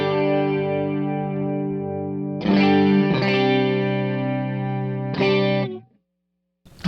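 Guitar played through a generic chorus effect on a Fractal FM9 with full stereo spread: sustained, shimmering chords rung out a few times, each left to ring before a brief silence.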